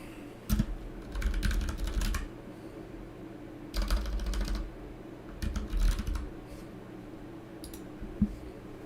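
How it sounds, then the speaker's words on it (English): Someone types on a computer keyboard in bursts of rapid clicking keystrokes separated by short pauses, close and clear with no talk. "I'm typing a message to Mr. Trace Trades himself"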